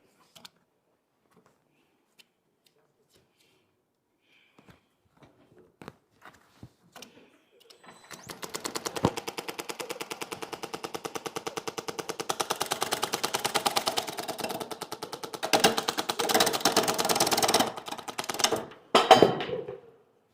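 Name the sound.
small wood lathe turning a winged bowl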